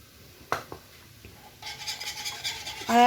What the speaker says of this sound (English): Keep on stirring, keep on stirring.